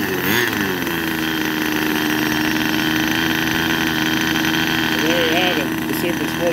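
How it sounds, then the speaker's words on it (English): A Super Sportster 90 twin engine turned down to a low idle runs steadily and close, with an even buzzing drone and a faint wavering tone over it. "I got the idle all the way down right now"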